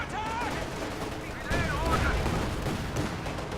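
Sustained gunfire from a Panther tank and MG34 machine guns in the Company of Heroes 2 strategy game rattles continuously, swelling halfway through, while a commentator talks over it.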